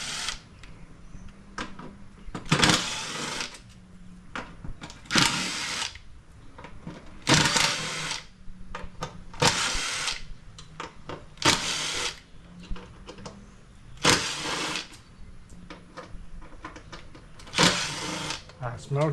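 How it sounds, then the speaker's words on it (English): A power drill spinning out T20 Torx bolts on a Harley-Davidson Softail during a fuel filter replacement, heard as repeated short, loud bursts with pauses between them, and talking in the gaps. "I'm going to use power tools"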